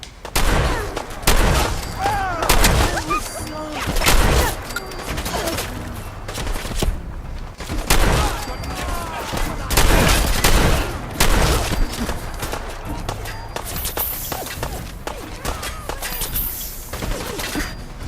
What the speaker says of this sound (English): there's someone off in the distance who's shooting at me